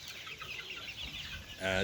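Broiler chickens on sand litter cluck in a steady background chatter, with one louder, nearer squawk at the very end.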